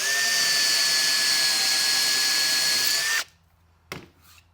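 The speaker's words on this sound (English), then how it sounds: "And drilling it out. We'll do the same thing over here." A power drill with a brad point bit bores a hole in a wooden drawer box for undermount drawer slides, a steady loud whine for about three seconds that stops abruptly, followed by a couple of faint knocks.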